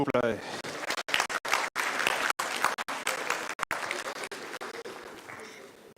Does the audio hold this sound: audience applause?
yes